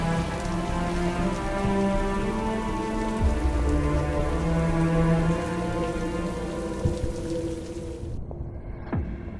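Steady rain pours onto a surface in a dark narrative scene, a loud, continuous hiss layered with a low droning tone, cutting off abruptly near the end into near silence.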